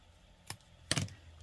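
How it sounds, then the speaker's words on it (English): Scissors snipping faux leather: two quiet, sharp cuts about half a second apart, the second fuller and crunchier, close up in a still room. "So I am just going to take a pair of scissors and nip part of that off."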